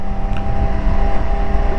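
A loud, steady motorcycle engine drone with a low rumbling exhaust and wind buffeting, sustained without a break, while riding Wolf Creek Pass in Utah.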